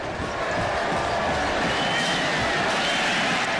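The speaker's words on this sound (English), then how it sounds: "That's why you hear the applause from the Hokie fans in the background." Virginia Tech Hokie fans applaud and cheer in a stadium after a touchdown at a 2007 college football game against Boston College, a steady, dense crowd roar that holds for several seconds without letting up.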